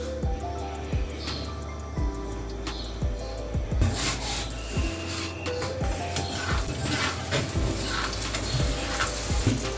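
An aloo paratha fries in ghee on a flat pan with a steady sizzle. Scraping and rubbing strokes from a spatula keep breaking into the sound, and the sizzling grows louder and brighter partway through.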